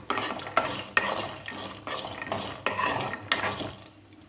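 Peanuts being fried and stirred in a metal pan for coconut chutney, with repeated scraping and clattering of a spoon against the pan over a soft sizzle, close and steady.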